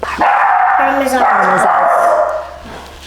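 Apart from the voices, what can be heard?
dog barking at someone at the door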